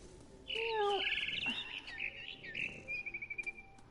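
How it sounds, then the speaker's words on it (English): A barn swallow chirps and twitters in bright, rapid bursts in the game What Remains of Edith Finch, ending in a quick trilling run, close and clear with no talk. "Then I heard chirping outside my window. Birdie. It was a barn swallow going back to her nest."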